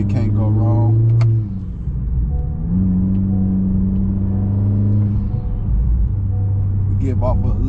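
A 2020 Honda Accord Sport fitted with a PRL street downpipe: a loud, deep exhaust drone rises and settles through a couple of revs, while a person talks over it near the start and end.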